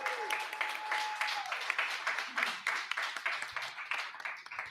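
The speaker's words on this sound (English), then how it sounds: "Let's give a big round of applause to our guests." A studio audience applauds the guests of a live Washington DC talk show, a steady wash of clapping from many hands that holds at moderate loudness throughout, with a brief tone early on and faint voices mixed in.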